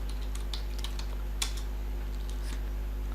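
Light tapping on a computer keyboard, scattered quiet keystrokes over a steady low hum, with one sharper key click in the middle.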